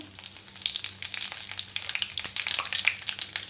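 Cumin, mustard seeds and curry leaves sizzle and crackle in hot oil for a dosa potato filling, a loud, steady frying hiss with sharp pops, close up and with no talking.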